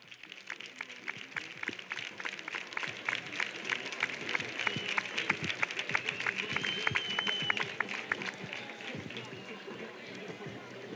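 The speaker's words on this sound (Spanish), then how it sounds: "Un fuerte aplauso para vosotros." Parents and family members applaud at a youth sports club's season presentation, a dense wash of clapping with cheering voices mixed in, steady and fairly loud across the whole stretch.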